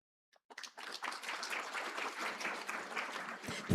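A forum audience bursts into applause after the Chief Executive's speech at the 2026 International Academicians Hong Kong Forum. Dense, steady clapping starts abruptly after a brief silence and holds at an even level to the end.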